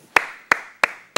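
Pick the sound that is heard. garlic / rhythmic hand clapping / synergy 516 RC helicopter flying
rhythmic hand clapping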